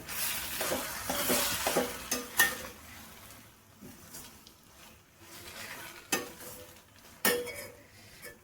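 Vermicelli is stirred into a hot tempering in a pan: a spatula scrapes and clinks against the metal, with bursts of sizzle early on and then sparser scraping strokes, close and fairly quiet, with no talking.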